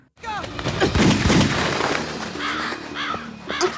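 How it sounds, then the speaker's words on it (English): Crows caw repeatedly over heavy gunfire in the Resident Evil: Umbrella Chronicles video game, loud booming shots mixed with harsh bird calls, the cawing rising clearly in the second half. "Now, unlike Billy, Richard would do something and fire at the crows"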